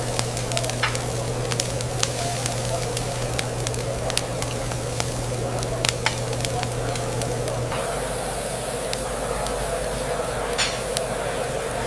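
Meat sizzling as it grills churrasco style over an open ember fire at a roadside steakhouse, a steady loud hiss with scattered sharp pops and crackles, a low hum underneath that drops away partway through.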